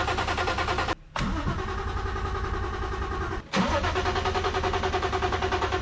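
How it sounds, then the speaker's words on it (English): A Toyota IS200 with a twin turbo conversion cranks repeatedly without firing, with a steady loud churning broken by two brief pauses, close and alone. "The engine would not want to start."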